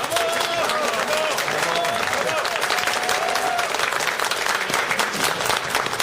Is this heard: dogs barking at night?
no